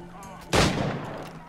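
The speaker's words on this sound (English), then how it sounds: "I'm just going to shoot people from up here" A single sharp shot rings out in the Assassin's Creed 4 Black Flag video game, fired from a high vantage point, a sudden loud crack with a short decaying tail over quiet background.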